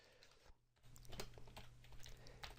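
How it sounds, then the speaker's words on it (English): Quiet keystrokes on a computer keyboard while entering slide text in Microsoft PowerPoint 2010, a brief pause early on and then a steady run of close, soft clicks over a low hum. "so I'm simply going to type"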